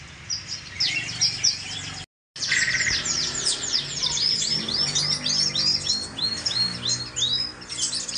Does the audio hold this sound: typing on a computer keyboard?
no